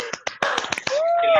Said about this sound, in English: I feel like we just need to have like a round of applause for you.